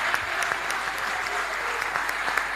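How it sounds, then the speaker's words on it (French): A hall audience applauds frenetically for young performers at a Congolese cultural event, dense continuous clapping with a few sharper claps standing out, fairly distant and steady. "Ceux qui sont dans la salle applaudissent frénétiquement pour les jeunes talents qui sont derrière"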